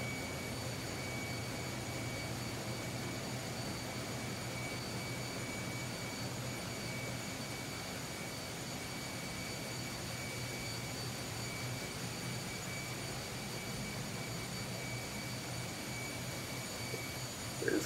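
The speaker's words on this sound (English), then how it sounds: "That'll bring us to the mid-level of the engine room." Steady, unbroken machinery hum with tonal whine in the mid-level engine room of a ro-ro ship, loud and constant throughout with no voices.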